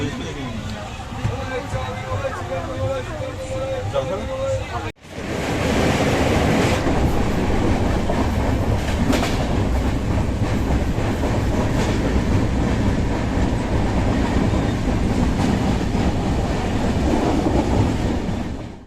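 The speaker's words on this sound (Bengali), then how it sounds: "ট্রেনটা জাস্ট ছাড়লো জাস্ট প্ল্যাটফর্ম থেকে বেরিয়েছে" Tamralipta Express on the Digha to Howrah line pulls away from a station platform. After a few seconds of quieter carriage sounds with voices, a loud, steady rumble of wheels and clattering rail noise fills the rest.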